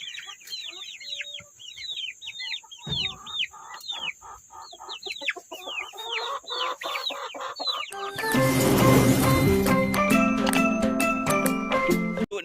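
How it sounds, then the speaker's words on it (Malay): Chickens clucking in a rural yard where chicks are kept, rapid repeated clucks close by, followed by a louder burst of flapping and squawking with dense overlapping calls. "Tengok ayam cek. Ayam lawa je."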